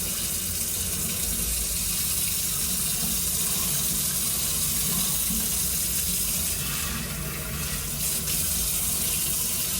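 Tap water running steadily into a sink being filled for washing clothes, a continuous close rushing and splashing that holds at the same level throughout, with no voices.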